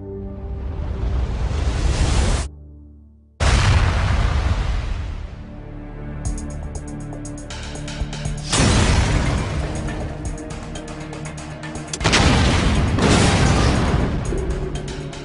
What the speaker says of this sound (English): there was a progressive experimentation using dynamite to find out the extent of damage particular strands of dynamite would cause.